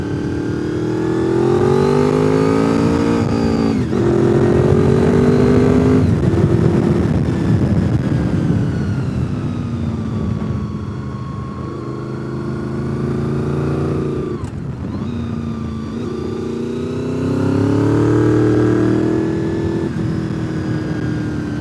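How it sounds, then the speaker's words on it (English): A big motorcycle engine revs loudly while riding the Deals Gap road, its pitch rising and falling through repeated throttle swells and gear changes, continuous and close with no talk. "This is a big bike."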